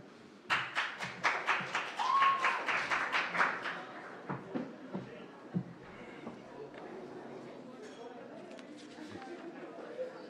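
A small crowd claps for the winner at a guild election results night, a short burst of clapping fading into scattered claps and then room murmur.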